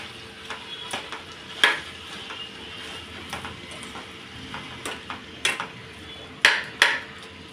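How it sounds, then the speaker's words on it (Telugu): A spoon mixes chana rajma chaat with salt in a bowl, giving scattered soft scrapes and several sharper clinks of utensil against the dish at irregular moments, close and fairly quiet with no talking. "మనం ఇందులో సాల్ట్ రుచికి సరిపడా సాల్ట్ వేసుకోవాలి ఒకసారి బాగా కలబెట్టుకుందాం"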